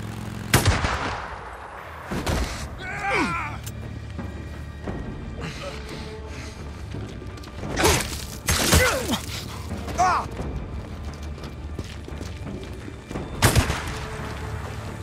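Sniper ambush in the video game Days Gone, with sharp isolated rifle shots spaced several seconds apart, some followed by ringing echoes and clattering debris, over a low ambient background.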